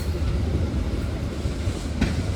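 A train of economy passenger cars reverses during shunting, rumbling steadily close by, a low continuous roll of rail cars with faint clacking, no voices.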